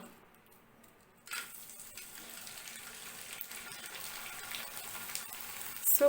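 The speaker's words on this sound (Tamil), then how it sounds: "எண்ணெய் காஞ்சிருச்சு, நம்ம வத்தலை போட்டு வறுக்கலாம்." Dried onion vathal dropped into hot oil, starting after a quiet moment with a sudden burst of bubbling sizzle that keeps crackling steadily and close.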